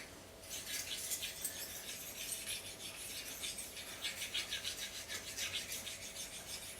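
A slicing knife rubbed up and back across a fine sharpening stone, a dry rhythmic rasping scrape repeating in strokes, quiet and close with no talking.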